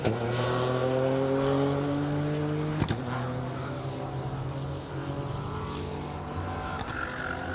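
A little Peugeot 205 rally car passing on a stage of a club rally, its engine note climbing loud and close and then falling away as the car moves off, with the drone fading into the distance.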